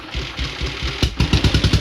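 The engine of a homemade snow plow tractor cranks a few times, then catches and chugs into a loud, uneven, rhythmic running thump close by.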